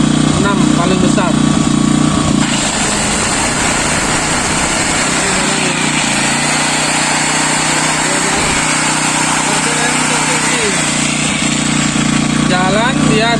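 A Krisbow Silent 2000 W portable generator running at its highest RPM: a loud, steady, close engine drone that holds constant throughout, with a voice talking over it.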